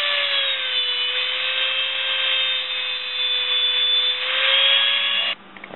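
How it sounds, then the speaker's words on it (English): A Dremel rotary tool cutting the lip off a plastic bottle cap gives a loud, steady high-pitched whine that holds close and continuous for about five seconds before stopping abruptly. "Like a Dremel, and we'll watch cut this lip off this cap all the way around."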